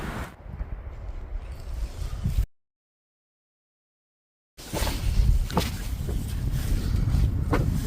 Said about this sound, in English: a little cool out today, windy, very breezy